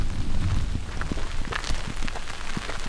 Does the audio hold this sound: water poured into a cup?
no